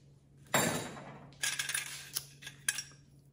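Small antique kitchen utensils — beater, knife, spoon, strainer — clinking and clattering as they are handled, a sharp metallic clatter followed by several lighter, separate clinks close by.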